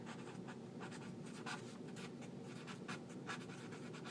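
Pen or pencil writing a sentence by hand on paper, a steady close scratching with short strokes and brief lifts, continuing without any voice.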